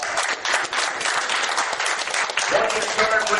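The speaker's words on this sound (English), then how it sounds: "a great big round of applause" Church revival congregation giving a big round of applause, dense, loud and sustained clapping from a crowd throughout.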